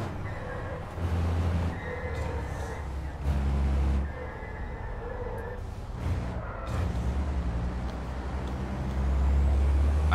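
A racing truck in Truck Racing Simulator's European truck racing at Misano, with a deep engine drone and repeated sharp hisses of the air brake, loud and close.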